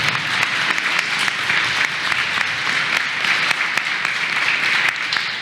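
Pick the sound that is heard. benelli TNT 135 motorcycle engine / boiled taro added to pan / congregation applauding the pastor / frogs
congregation applauding the pastor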